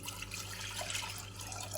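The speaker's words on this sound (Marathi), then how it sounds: "त्यासाठी आपण कुकरमध्ये पाणी टाकून घेऊया" Water is poured into a pressure cooker, a soft, steady splashing rush at close range that lasts the whole moment with no voices.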